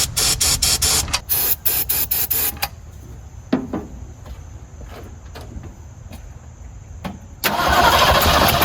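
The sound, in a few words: Ford 289 V8 engine starting and running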